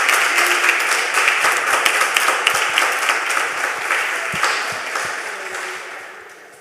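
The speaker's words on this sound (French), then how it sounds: "Ça mérite un applaudissement." A church gathering breaks into loud, sustained applause with crisp individual claps, steady for several seconds and then gradually fading.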